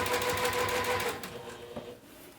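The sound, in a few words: sewing machine sewing D-ring connectors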